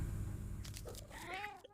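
A cat meows in the video game I Am Cat, a short rising-and-falling meow near the end of the moment, with a few faint clicks and a low rumbling background before it.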